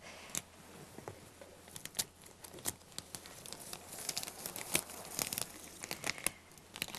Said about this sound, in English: peel the paper off